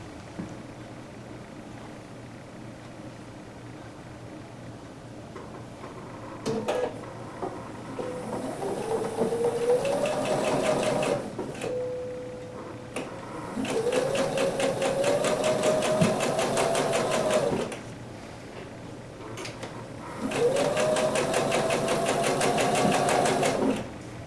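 A sewing machine stitches a quilt block in three bursts of rapid rhythmic whirring and clatter, close and loud, separated by quiet pauses.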